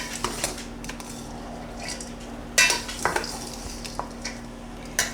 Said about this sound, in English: I'm mixing it up to make sure it's all touched the butter and the seasoning